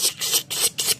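Worn motorcycle brake pad worn down to its metal backing plate, scraping against the disc in short harsh hissing bursts, four or five rhythmic strokes close up, with no voice.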